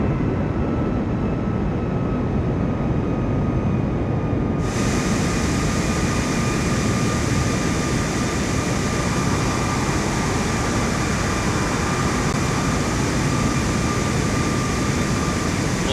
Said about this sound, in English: momentarily, we're taking off from Chicago Airport